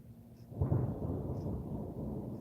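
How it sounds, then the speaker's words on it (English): A low rumble of thunder rolls in just outside a workshop door during a storm, swelling after a brief quiet start and holding as a muffled, fairly faint continuous roar. "Yeah, that's the storm. I can see it right outside my door."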